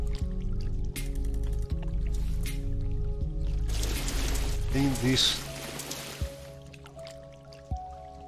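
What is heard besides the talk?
water in the sewers in Morrowind, from a video game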